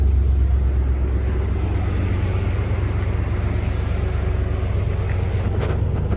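A Dinan S1-tuned BMW X5 4.6is (E53) on BC Racing coilovers idles while warming up, a steady low, continuous rumble with a faint windy hiss over it and no voices.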